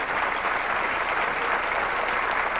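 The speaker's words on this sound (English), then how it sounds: "The applause now, much deserved." Crowd applause fills a professional bowling match at the Riviera in Akron after a string of strikes is broken, steady dense clapping from many fans at an even level throughout, with no talk.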